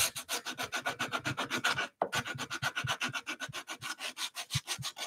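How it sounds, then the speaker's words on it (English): Rapid back-and-forth rasping of sandpaper wrapped on a wood offcut block, sanding wood edges, a quick steady rhythm with one brief pause, close and fairly quiet. "Just going to use one of my offcuts as a little sanding block."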